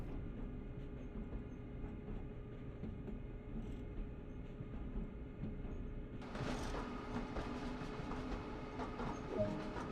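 A train running in a train driving video game, with a steady low rumble and rail noise; a brighter, louder rolling clatter joins about two thirds of the way through, and no one speaks.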